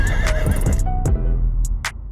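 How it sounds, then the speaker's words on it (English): A horse whinnies loudly and close, its shrill neigh rising and falling, followed by a few hollow hoof clops and short sharp bursts as the sound fades. "Horses won't stop galloping just because you want to look cool."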